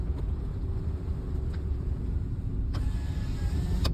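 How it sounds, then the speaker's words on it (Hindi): A car's power window motor whirs closed against a steady engine and road rumble while driving through dense forest, ending with a couple of brief clicks. "थोड़ा शीशा बंद कर रखा"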